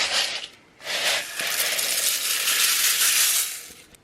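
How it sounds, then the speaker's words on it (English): Cornflakes tip into a bowl of melted chocolate and get stirred through for no-bake cookies, a close crisp rustling and crunching that swells and continues steadily, no talk. "now it's just a matter of adding the cornflakes and mixing them through"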